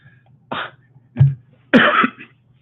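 Three short, rough coughs burst out one after another with brief gaps, close up and fairly loud, the last the strongest.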